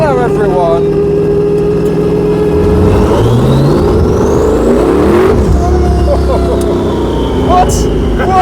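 A 1,000 brake horsepower drift car revs hard on a parade lap, a loud continuous engine roar with rising and falling pitch sweeps, mixed with other engines and crowd noise, voices talking over it.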